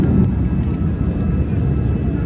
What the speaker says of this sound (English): currently we are flying above the Philippines